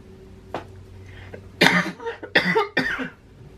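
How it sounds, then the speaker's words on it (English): A woman coughs in a few harsh bursts, one short cough first and then three louder ones close together, near and distinct against a quiet indoor background. "I don't know why I just coughed"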